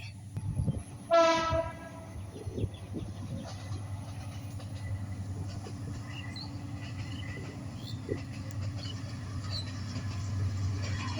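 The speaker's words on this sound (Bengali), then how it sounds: "এই তো এখন ট্রেন চলে আসবে" A train passes a grassy village vegetable field, its horn sounding once loud and clear early on, then a low steady rumble of the moving wagons that fades gradually, with insects faintly audible and no talk.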